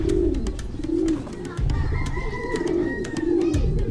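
Racing pigeons coo in a loft in repeated soft, throaty rolls, close by over a busy background with scattered clicks and faint voices.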